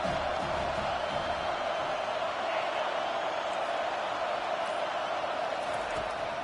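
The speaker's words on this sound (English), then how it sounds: "Decibels rising as the crowd gets behind this defense on 3rd down." Stadium crowd noise from a college football video game swells as the defense lines up on third down, a steady roaring wash of fans that holds loud and even throughout.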